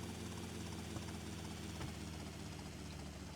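A helicopter in GTA Vice City hovers with a steady, continuous rotor drone and engine hum throughout, moderately loud with no voices.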